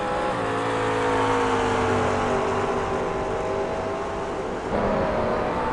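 Grand Am race cars roar by at the start of lap 31, a loud sustained engine drone with shifting tones as they pass close, no talk over it.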